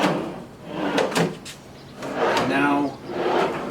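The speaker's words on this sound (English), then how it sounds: "They come all the way out nicely, and they do have the soft close." Soft-close slides on a bathroom vanity drawer being pulled out and pushed in, several sliding rolls and gentle thuds spaced through the clip, close by, with what may be a voice in between.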